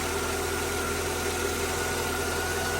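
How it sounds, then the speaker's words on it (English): A 2003 Mercedes-Benz C240 engine idles steadily after an alternator replacement, with a smooth, even hum and a faint whine, constant throughout with no voices. "Now idling smooth."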